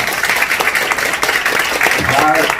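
Audience applause fills the hall at a Korean political party's founding promoters' assembly, a dense, steady wash of clapping from a crowd close by, continuing throughout with a voice speaking faintly over it.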